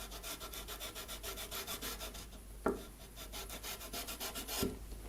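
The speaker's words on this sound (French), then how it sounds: "je vais faire quelques allers-retours avec mon grain 600" A wooden leveling block with 600-grit abrasive rubs back and forth over the frets of an SG Junior guitar in a soft, steady rasping rhythm, with a couple of faint knocks, quiet and close.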